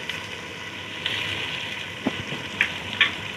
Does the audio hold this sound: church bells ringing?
no